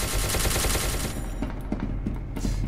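Rapid automatic gunfire from SCP: Secret Laboratory rattles loudly and close for about a second, followed by scattered single shots and impacts at a lower level, with no voices.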